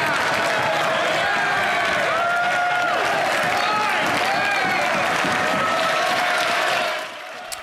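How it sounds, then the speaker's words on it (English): Conservative MPs in the Canadian House of Commons applaud and cheer a Liberal member, a loud, sustained burst of clapping with raised voices that cuts off abruptly near the end. "the Liberal getting all the applause from the Conservatives there is Ken McDonald"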